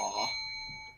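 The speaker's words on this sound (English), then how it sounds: "I got so many bells, you guys." A single bright electronic bell chime rings out clearly and then fades into sustained, ringing tones, alone with no talk over it.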